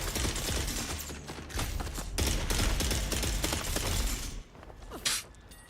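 Dense, continuous gunfire from the video game Dune Awakening, loud and sustained with clattering mechanical bursts that drop off near the end.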